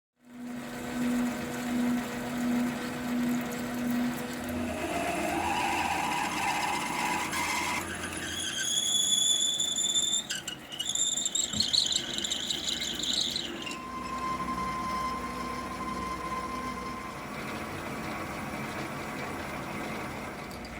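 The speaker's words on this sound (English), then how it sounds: "drilling as far as I can before throwing the boring bar in and bring it out to diameter" A lathe drills and then bores out a metal motorcycle clip-on for a Moto Guzzi Le Mans III. Motor hum runs alongside whining cutting tones, with shrill squeals in the middle section and a steadier whine near the end, moderately loud and close.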